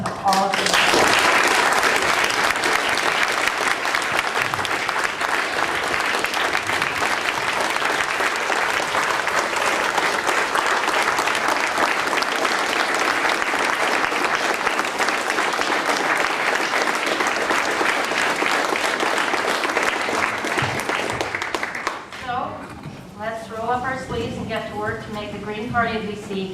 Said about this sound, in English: we need to have a round of applause for all of the campaign teams